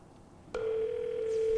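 In the Space Station 13 video game, a steady telephone dial tone switches on suddenly partway through and continues loud and unwavering, with no voices over it.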